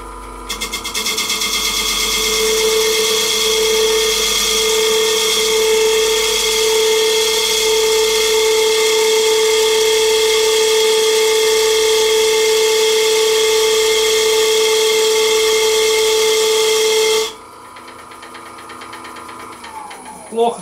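Lathe chisel cutting an oak bowl segment, a loud steady whirring with a sustained tonal hum and broadband hiss that runs continuously for about seventeen seconds before stopping abruptly, leaving a quieter tail.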